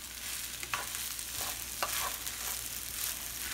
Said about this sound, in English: So I'm going to mix this all together.